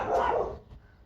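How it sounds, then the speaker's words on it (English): A single short dog bark rings out in a late spring garden, moderately close and clear, then quickly fades into quiet. "dogs barking."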